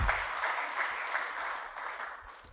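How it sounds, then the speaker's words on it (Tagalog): A church congregation bursts into sustained applause, many hands clapping steadily and filling the room from start to finish at a fairly even loudness. "Pumalakpak po kayo."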